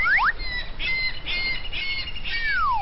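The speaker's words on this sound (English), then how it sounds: "Them magpies like shiny things." Cartoon magpies squawk loudly in a rapid run of harsh, bright calls over a busy, steady backdrop, with several rising and falling cries overlapping across the stretch.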